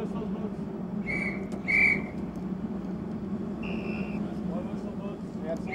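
Aboard the Navy cruiser USS Antietam, short high whistle signals sound for passing vessels: two quick blasts, then a longer one, over steady engine rumble with people talking.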